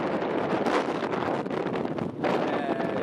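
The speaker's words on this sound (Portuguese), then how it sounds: "Tá um vento animal aqui, não sei se não vai escutar nada." Strong wind buffeting a microphone outdoors in Holyrood Park, a loud rough roar that surges and dips across the whole stretch, with a brief lull near the end before it gusts back in.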